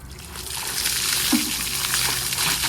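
A bucket scoops up water and pours it out, making a continuous rushing, splashing wash of moderate loudness with no talking.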